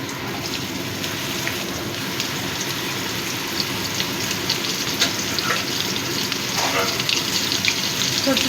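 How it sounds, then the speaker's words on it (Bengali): Small potato pieces fry in oil in a kadai with a continuous, loud, even sizzle and hiss throughout. "এবার আলুগুলোকে একটু ভেজে নেব, অল্প লাল করে একটু ভেজে নেব"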